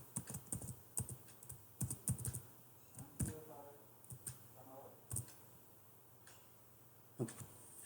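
Rapid, irregular clicks of a computer keyboard as code is typed in bursts, close and fairly crisp, with short pauses between runs of keystrokes.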